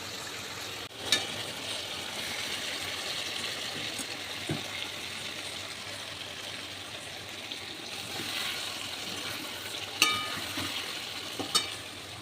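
Onion and biryani masala frying in a pan for veg biryani, a continuous close sizzle with occasional clinks and scrapes of a utensil, no talk.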